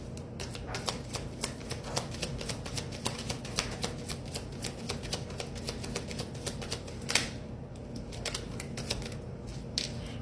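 Tarot cards are shuffled close by in a quick, rapid run of soft flicking clicks, a few sharper snaps standing out, quiet and without speech.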